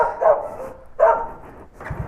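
Two loud, close dog barks about a second apart, followed by a shorter, fainter bark, heard during a food delivery stop on a street.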